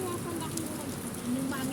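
Heavy rain during Typhoon Carina, a dense, steady hiss of downpour on surfaces, constant and fairly close, with faint voices in the background.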